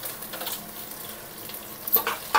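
Freshly ground ginger garlic paste frying with onions in a pan, a soft continuous sizzle with a few brief louder crackles near the end.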